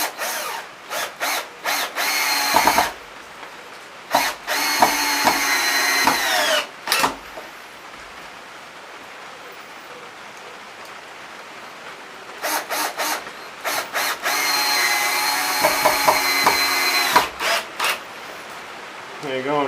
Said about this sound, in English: We'll grab the drill. Couple of 3-inch screws.